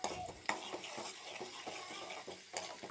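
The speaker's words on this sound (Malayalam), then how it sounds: "ഇഞ്ചി വെളുത്തുള്ളി കറിവേപ്പില ഇത്രയും സാധനങ്ങൾ ഇട്ട് കൊടുത്തു നന്നായിട്ടൊന്ന് ഇളക്കി കൊടുക്കാം" Ginger, garlic and curry leaves sizzle in hot oil in a pan while a spoon stirs them, with a steady frying hiss broken by several sharp scraping clicks against the pan, close up and with no talk.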